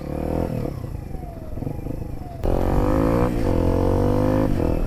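A motorcycle crawls slowly under clutch and rear-brake control, its engine note shifting and rising partway through, then holding a louder steady drone with small revs.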